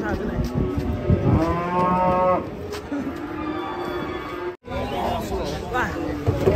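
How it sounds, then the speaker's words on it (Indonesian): A cow being unloaded from a truck lets out a loud, drawn-out moo close by, with a second fainter lowing call after it, while several people chatter and exclaim in the background. "Lincah sapi nih."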